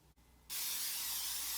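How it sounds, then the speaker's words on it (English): Cooking spray hissing into a pan in one steady, close burst that starts abruptly and continues, in a quiet kitchen while making a Tex-Mex pizza. "Add some pan spray to my pan."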